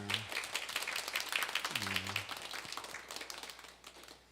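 A church congregation at Sunday worship claps in a sustained round of applause that fades toward the end, with a brief spoken voice over it near the start.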